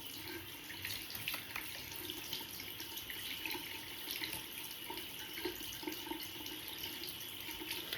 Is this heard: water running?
yes